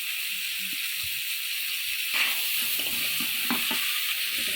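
Turmeric, cumin, coriander and ginger paste sauté in a pan for a fish curry with green banana, a steady close sizzling hiss with a brief louder spatter midway, no voices.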